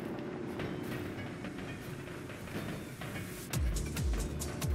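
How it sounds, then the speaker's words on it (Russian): Heavy crawler tracks in the game Space Engineers clatter and rumble steadily, with a denser, louder burst of rhythmic clanking toward the end and no talk. "Я думаю, вы слышите звуки гусениц."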